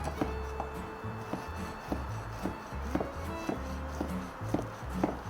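A knife chops ingredients for crab shell pasta with a series of sharp, evenly spaced knocks about every half second, close up and fairly quiet, with faint rubbing sounds between the strokes.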